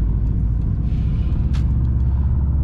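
A 2006 Subaru WRX with a JDM swap and 4.44 gearing accelerating from inside the cabin, a loud steady engine drone and road rumble throughout, with a brief higher hiss near the middle.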